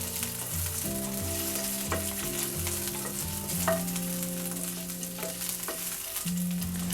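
Chopped ginger and green chillies stirred in a little hot oil in a pan for spinach potato tikki, a steady close sizzle with scraping spoon strokes throughout, background musical tones underneath, no talking.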